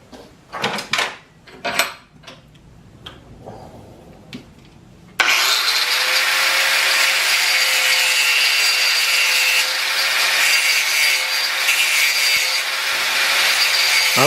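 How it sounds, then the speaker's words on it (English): A 4-inch angle grinder with a cutoff wheel grooving a metal pipe starts after a few scattered knocks and handling sounds, then whines steadily and loudly at close range, with no talk. "We're going to go ahead and take a 4-inch grinder with a cutoff wheel, and we're just going to make a nice little groove right down through there"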